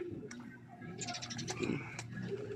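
Racing pigeons coo softly inside a fanciers' loft in Laguna, with low, throaty burbles repeating over a steady background hum and some faint higher chirps.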